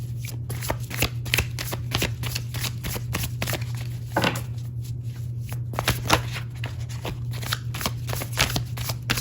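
Tarot cards being shuffled by hand, a close rapid series of crisp riffling flutters and slaps over a low steady background hum.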